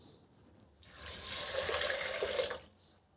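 A pot of water poured into a cooker of red masoor dal, toor dal, moong dal, onions and tomatoes, a short close splashing gush lasting under two seconds and then stopping.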